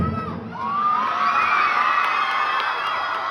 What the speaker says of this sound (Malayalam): ആരവം ഉയരട്ടെ